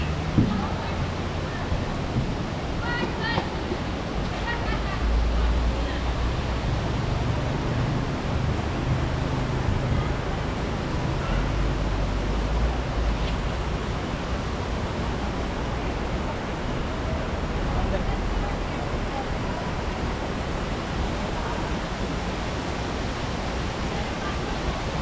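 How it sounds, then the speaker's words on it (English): The Aina Pahara waterfall in Tanahun district, Nepal, gives a loud, steady, broadband rushing roar that fills the whole stretch, with faint voices briefly audible near the start. "the Aina waterfall or Pahara, as called in local dialect in Nepal, is located in Abu Khairan"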